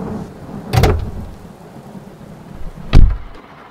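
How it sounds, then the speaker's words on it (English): Heavy rain falls steadily as a sound effect in an audio drama, broken by two loud close thunder cracks that each boom and rumble briefly, with no one speaking. "I'm not going to let a spot of rain ruin our trip"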